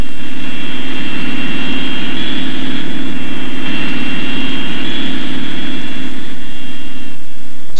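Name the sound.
four-engine supersonic jet bomber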